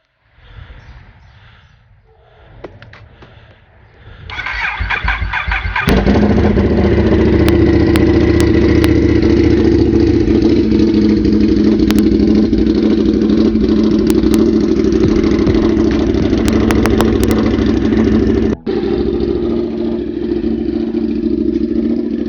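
A Ducati 848 Evo motorcycle fitted with a race exhaust fires up after a few quiet seconds and settles into a loud, steady, throaty idle close by, with one brief dip near the end.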